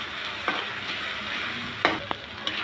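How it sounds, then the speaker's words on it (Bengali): Ground spices and coriander powder with salt frying and being stirred in a pan for chicken curry, a steady close sizzle broken by a few sharp spoon scrapes. "দিয়ে মশলাটা ভালো করে মিশিয়ে নেব"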